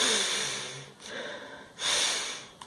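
A person draws in a very strong, forced breath through the nose in two separate rushing pulls, with a quieter breathy stretch between them, close and alone.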